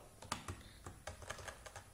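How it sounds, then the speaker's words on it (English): A computer keyboard is typed on in short bursts as a terminal command is entered, with close, crisp key clicks following an uneven rhythm. "we'll first type in our terminal"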